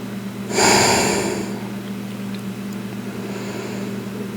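A single deep, loud breath is drawn in and let out during a quiet yoga class, followed by faint room stillness.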